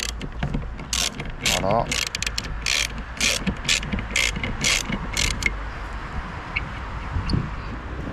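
A ratchet wrench clicks in quick, even bursts while loosening a 13 mm bolt on the wiper arm of an Opel Astra H, close and crisp, with a brief spoken word near the start.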